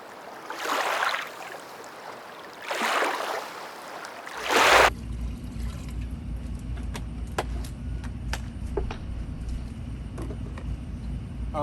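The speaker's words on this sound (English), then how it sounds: "So I'm going to go ahead and add the last gallon" Last gallon of water poured into a large home-brew vessel for a hard seltzer batch, a steady broadband rush running without pause for several seconds after a few brief splashes and a clunk.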